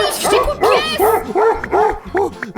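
A dog in the Roblox game Easy Clone Obby barks about six times in a quick, loud, close series of yaps.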